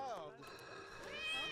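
A cat meows loudly and close in a couple of rising, drawn-out calls, heard in the middle of a video game session.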